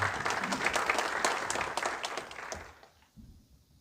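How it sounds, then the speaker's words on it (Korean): Audience applause in a convention hall at a seminar on senior jobs in Jeju, a brisk crowd of clapping hands that fades out over the last second, leaving near silence with faint shuffling. "현지용 위원님께도 뜨거운 박수 부탁드리겠습니다"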